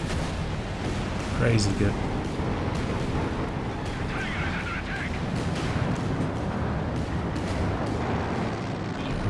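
A StuG assault gun fires repeatedly in Company of Heroes 2, heavy booming shots over a dense rumbling battle din of distant explosions and gunfire, with someone talking over the action.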